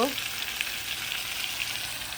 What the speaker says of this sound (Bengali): কাঁচকলাটাকে ভালো করে কষিয়ে